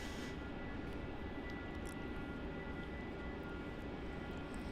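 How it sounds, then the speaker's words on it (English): Jetstar Airbus A320 on final approach to touch down on runway 16 at Melbourne Airport, arriving from Launceston; a steady, broad jet roar holds level and fairly loud throughout, with no voices. "we've got the Jetstar A320 just about to touch down on runway 16 from Launceston"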